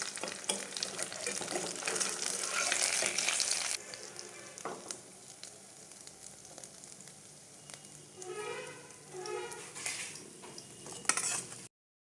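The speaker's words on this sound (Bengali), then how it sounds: "পামপ্লেন মাছগুলো ছেড়ে দিয়েছি" Pomfret fish sizzling as they fry in hot oil in a home kitchen, a loud crackling hiss for the first few seconds, then quieter bubbling with intermittent utensil clinks and scraping.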